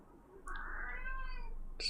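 A pet cat named Henry meows in the room with a single drawn-out, wavering cry of about a second, fairly close and alone.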